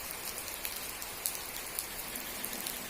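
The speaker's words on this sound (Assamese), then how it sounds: "এইফালে বৰষুণ দিয়ে আছে, আজি বতৰ ঠাণ্ডা" Steady rain falls throughout, a dense even hiss with scattered drop ticks in a quiet setting on a cold day, with no voices.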